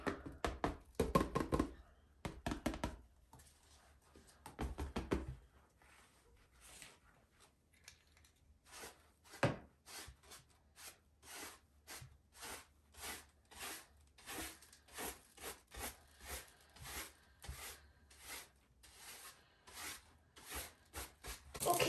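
Excess glitter is knocked off a Mod Podge-coated canvas with a long run of rhythmic, close taps and knocks, with denser rubbing and handling at the start.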